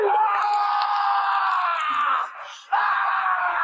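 A man in a sewer screams in pain, a long, loud, strained cry that holds and wavers, breaks off briefly, then resumes just as intensely.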